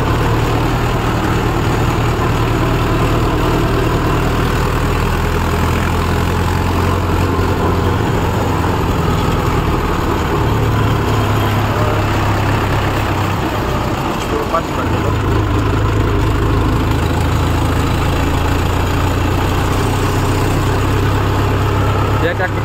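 A Mahindra Yuvo 575 tractor engine idles steadily with a deep, low rumble throughout, close by and constant.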